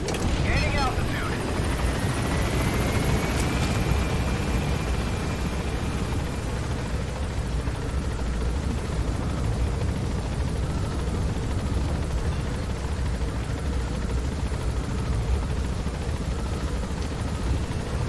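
Helicopter in the video game Metal Gear Solid 5 climbing, a steady loud rotor and turbine roar throughout, with a brief rising whine early on and a voice speaking over it.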